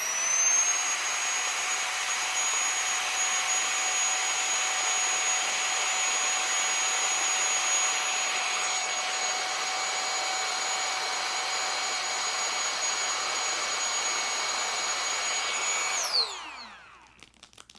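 A vacuum pulls air out of a GONGSHI vacuum seal bag with a loud, steady whine and a high tonal hum that holds for about sixteen seconds, then winds down and stops.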